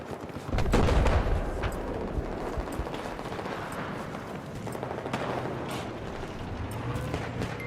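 A tank rumbles in a Battlefield video game match, a loud, dense, continuous mechanical roar mixed with gunfire and explosions. The sound is fairly close and there is no talk over it.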